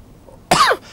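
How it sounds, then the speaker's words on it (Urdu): A single short, dry cough, loud and close, standing alone against a quiet background. "خشک کھانسی ہوگی جس سے مجھے اس وقت ہو رہی ہے"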